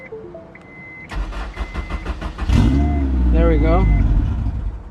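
A Honda S2000 cranks with a rapid whirring starter, catches, and revs up loudly with rising engine pitch; someone speaks briefly before and over the engine.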